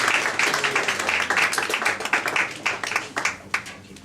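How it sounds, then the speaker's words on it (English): An audience at a book launch claps, dense at first and then thinning into scattered individual claps that fade out toward the end, with no speech. "Clap for them again."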